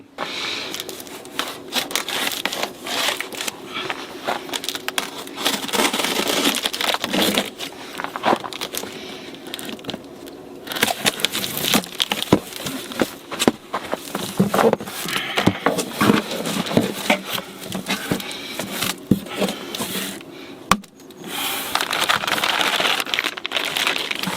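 Crinkling and rubbing of cardboard and paper as a box holding a lithium battery for a solar system is handled and opened, close by, with scattered crackles and no talking.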